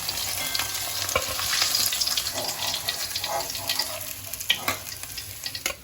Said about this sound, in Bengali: এইভাবে উল্টে পাল্টে লাল লাল করে আমি কিন্তু মাথাটা ভেজে নেব